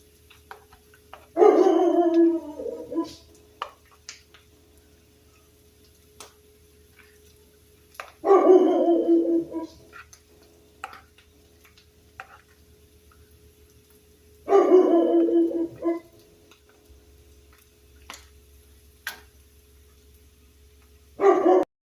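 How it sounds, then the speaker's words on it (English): A dog barks in three separate clusters spaced several seconds apart, moderately distant, with quiet stretches of faint background hum in between. "I'm tired of hearing him bark"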